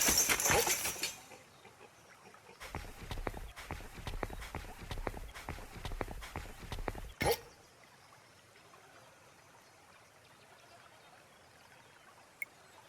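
Horses walk in a video game, a rapid run of hoof clip-clops over a few seconds after a brief burst of other game noise, then quiet.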